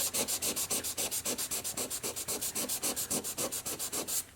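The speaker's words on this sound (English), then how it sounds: "sand it down smooth with the paper" Back-and-forth strokes of 1000 grit sandpaper gently smoothing down a bulge of touch-up paint, a fast, even rhythm of about six rubs per second, close and steady throughout.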